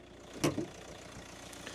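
A 2014 Hyundai ix35 with the 1.7 CRDi diesel engine and manual gearbox idles smoothly with the hood open, a low, even hum and one brief clunk near the start.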